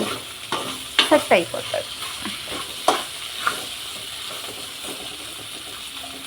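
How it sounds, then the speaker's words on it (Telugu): Okra (bhindi) frying in a pan, with a few scraping stir strokes and clatter over a faint steady sizzle; a voice speaks briefly. "బెండకాయ కదా, తొందరగా అయిపోతుంది ఫ్రై"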